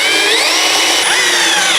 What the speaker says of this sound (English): screw this tile trim in place